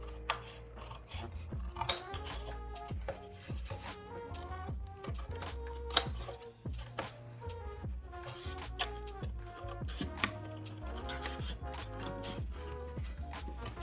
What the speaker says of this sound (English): I'm gonna take my strong scissors and I'm gonna go ahead and cut this portion.